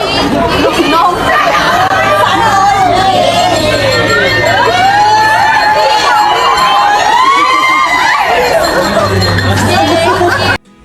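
Fans scream and cheer at Alexa Ilacad's birthday celebration: a loud, continuous wall of high-pitched crowd shrieks with excited chatter mixed in, running nearly the whole time before cutting off abruptly.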